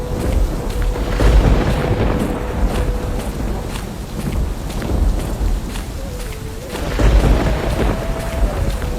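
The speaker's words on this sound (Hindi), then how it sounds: "अरे गोपाल, इतनी रात को मूसलाधार बारिश में" Heavy downpour at night with deep rumbling thunder, steady rain hiss under repeated low booms that swell and fade over several seconds.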